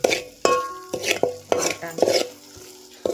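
Spoon scraping and stirring onion masala with turmeric, salt and oil in a pan, several distinct stirring strokes with soft sizzling between them, close and clear.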